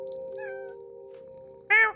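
A cat in the video game Nothing Remains of Edith Finch gives a single short meow near the end, clear and close, following a quiet stretch with a steady low electronic hum and faint tones.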